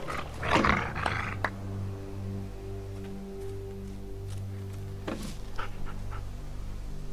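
Dog in the video game The Walking Dead Season 2, heard as a loud burst of animal breathing and growl-like sound near the start, another brief burst around five seconds, over a steady game music drone.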